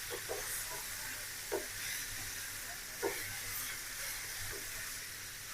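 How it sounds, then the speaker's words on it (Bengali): Water spinach (kalmi greens) frying with onion and garlic gives a soft, steady hiss with a few light clinks and stirring knocks at irregular intervals, fairly faint. "শাক একটু ভাজা ভাজা করে নেব।"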